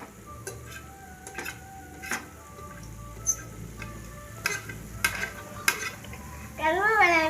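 Prawns stir-fry with turmeric and chili powder in a sizzling pan while a utensil scrapes and clinks in irregular bursts, and a voice speaks briefly at the end.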